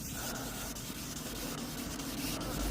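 A whole car is wet sanded by hand. A steady, continuous rubbing and rasping sounds close up and fairly quiet, and it carries on without a break.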